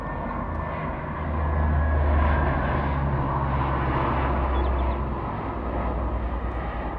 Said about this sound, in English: If you can hear that, it's a plane up there.